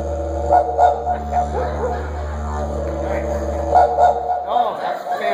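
People in an audience imitate a dingo, voicing a warning growl followed by two barks, loud and close, with speech in the clip.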